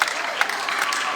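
Church congregation applauding and cheering during a French-language worship service, a dense, steady wash of clapping and crowd noise throughout with a few brief louder bursts.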